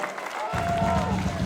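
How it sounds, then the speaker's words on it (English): Concert audience at a show in the Wild Buff venue in Bellingham breaks into applause after a brief pause, a dense wash of clapping and crowd noise that continues steadily. "Can we please get a round of applause to everyone at this venue for being really, really chill?"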